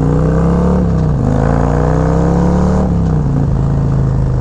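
A motorcycle fitted with a Legend AXEO front suspension rides on an open road on a mild day, its engine droning loud and steady with slight pitch shifts, wind noise throughout and no talk.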